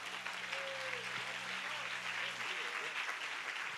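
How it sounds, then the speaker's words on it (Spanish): Church congregation applauding during a Spanish-language worship service in Aruba, a dense steady clapping wash with a brief tonal note and low hum underneath, close and continuous throughout. "aplauso para Jesús. Más fuerte ese aplauso para el Rey."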